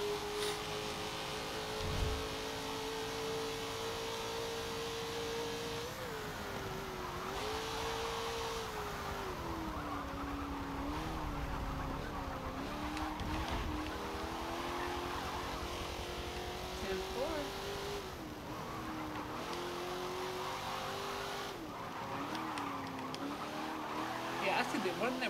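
A race car tears down a street in a Forza racing game, its engine a steady high drone whose pitch swells and dips with each shift and corner. It stays loud and continuous under someone talking throughout.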